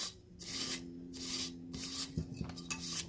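Tiny leftover bits of epoxy being sanded off the rim of a tumbler, heard as repeated rough rubbing strokes in steady bursts, close up with no talking.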